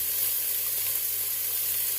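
Chicken fillets browning in a pot give off a steady, even sizzle of frying, loud and continuous with no voices over it.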